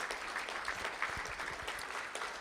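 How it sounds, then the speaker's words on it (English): A crowd applauds John Henderson of Legacy Farmstead at a school board of trustees meeting, with dense, steady clapping held at an even level for the whole stretch and no voices over it. "Let's give John a big round of applause tonight as well."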